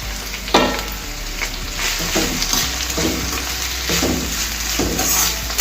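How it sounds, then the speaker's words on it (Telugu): Bitter gourd pieces and onions fry in a pan, giving a steady close sizzle with occasional stirring scrapes and clatters recurring through the short stretch. "ఇప్పుడు ఉల్లిపాయలు ఇలా కొంచెం వేగాయి కదా, ఇప్పుడు మనము ముందు కాకరకాయ ముక్కలు ఇందులో వేసుకోవాలి."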